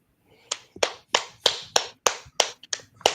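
A pair of hands claps nine times in an even, steady rhythm, each clap sharp, close and fairly loud with no other sound around it.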